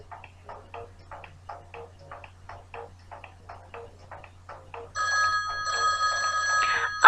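Telephone ringing in a radio studio during a call-in show about the Amazon River, a loud electronic ring arriving after several seconds of quiet ticking, close and alone without talk.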